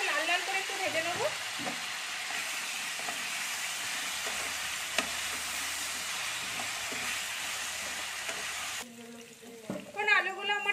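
Large potato chunks sizzle steadily in hot oil seasoned with turmeric and salt, a continuous broadband frying hiss with occasional stirring clatter, cutting off near the end as a voice speaks over quieter cooking.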